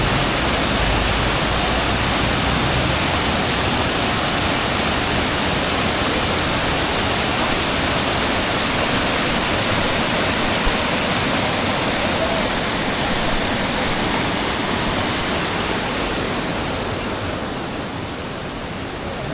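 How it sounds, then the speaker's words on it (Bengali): A mountain waterfall near Rohini on the road up from Siliguri roars as a loud, unbroken broadband rush, close and steady for the whole stretch with no one talking. "সুন্দর একটা ঝর্ণা ভিউ পয়েন্ট।"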